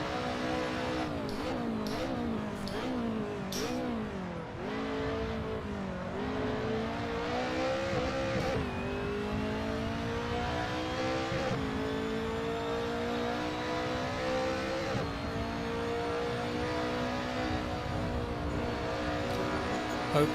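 A BMW E30 M3 race car engine accelerating at Silverstone, heard from onboard: a loud, continuous rasping drone that dips and climbs through several gear changes before settling into a long, steadily rising pull.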